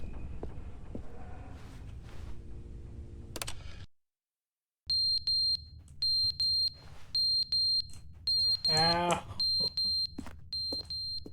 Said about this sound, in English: Fire alarm. I know you need your battery changed.